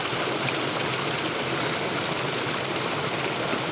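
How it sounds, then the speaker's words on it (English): Stream water pours steadily into a DIY off-grid water supply setup, a continuous close rushing and trickling wash with no pauses and no voices. "the water will just hit that, fill up and then flow over"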